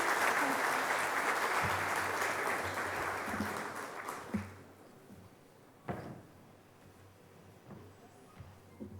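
An audience at a banking technology citation ceremony gives a loud round of applause that fades over about four seconds, leaving scattered thumps and a few last claps.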